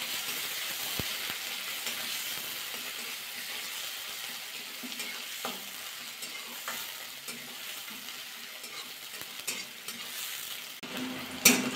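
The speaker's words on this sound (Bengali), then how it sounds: "পেঁয়াজটা হালকা ভাজা করে দিতে হবে।" Chopped onion frying with cardamom, cloves and cinnamon in a pan, a steady close sizzle broken by the scrape and knock of stirring, with a louder clatter near the end.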